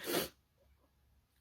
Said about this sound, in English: when I'm driving, I'm having a sneezing fit